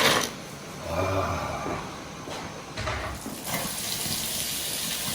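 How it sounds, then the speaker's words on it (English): Potatoes are dropped into a pan of boiling water, giving a short watery splash and gush followed by steady bubbling and running-water noise at moderate level, with no clear talking. "Here where the water is boiling for the potatoes, and we can put the potatoes in."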